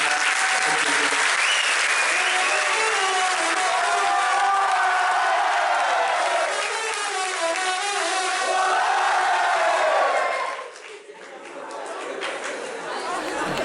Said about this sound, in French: Merci à vous aussi pour vos applaudissements